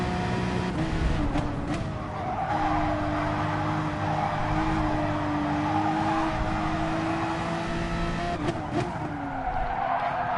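Race car in Gran Turismo Sport braking late, with loud, sustained tire squeal and skidding over a droning engine, pitch sliding and shifting through the run.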